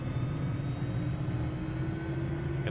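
An aircraft engine at full throttle in Microsoft Flight Simulator gives a steady, unbroken droning roar with a low rumble, constant in loudness throughout.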